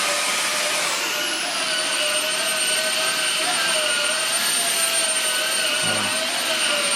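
A Xiaomi Jimmy H8 Pro stick vacuum cleaner runs with a steady, loud, high-pitched motor whine and airflow roar, close by and unbroken, with a brief low bump near the end.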